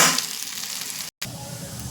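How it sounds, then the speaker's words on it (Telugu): Chillies and spices for tempering sizzle in hot oil with a bright, steady crackle that stops for a moment and then carries on at close range. "తాలింపు ఎగిపోయింది మిరపకాయ"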